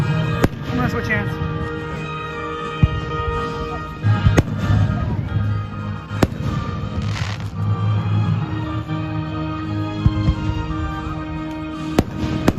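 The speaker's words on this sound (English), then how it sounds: "The music keeps cutting in and out because of fireworks." Neighborhood fireworks bursting in repeated sharp pops and booms, some near and loud, others distant, over a steady bed of crackle and background noise.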